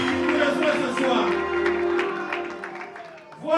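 An audience applauds a graduate at a church graduation ceremony in the Living God Tabernacle, a crowd clapping steadily beneath a voice speaking over the top.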